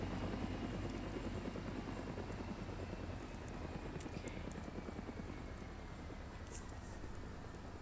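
A helicopter in a video game keeps up a faint, steady rotor thrum with a dense chopping texture, distant and low in level, with a few light clicks on top.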